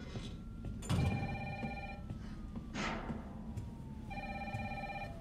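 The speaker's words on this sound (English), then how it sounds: "Oh, the phone." A telephone rings in the video game Resident Evil 3 Remake, with a steady repeating electronic ring in bursts over a low droning game ambience and a faint passing tone.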